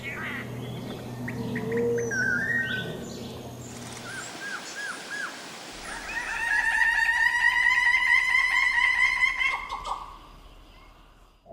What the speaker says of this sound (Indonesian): Twelve-Winged Bird of Paradise